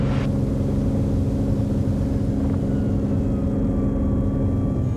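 A light aircraft engine at takeoff power while climbing out, a loud, steady, droning roar with strong low harmonics held throughout, close and continuous, with no voices.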